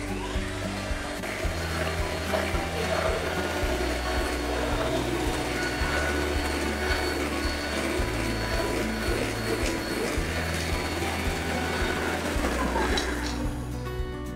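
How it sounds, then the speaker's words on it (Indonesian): A hand mixer whirs steadily at high speed beating egg whites, a constant close motor hum with a shifting pitch as the beaters work, running throughout without talk. "Jadi di sini putih telur kita mixer dulu sendiri putih telurnya. Pakai hand mixer, boleh pakai high speed,"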